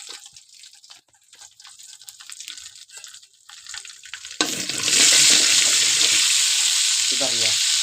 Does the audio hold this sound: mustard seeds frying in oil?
yes